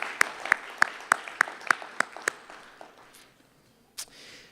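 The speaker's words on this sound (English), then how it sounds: "So please join me in giving a round of applause for our staff and our volunteers." Applause for staff and volunteers at a legislative policy forum luncheon, heard as about eight sharp, evenly spaced claps close by that stop after two seconds, followed by a quieter pause and one last brief noise.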